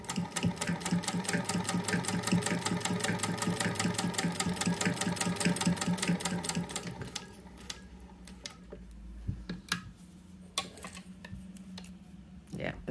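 A sewing machine stitching two layers of fabric, fast rapid needle clatter running steadily for several seconds before stopping, followed by quieter clicks and handling noises with a voice talking.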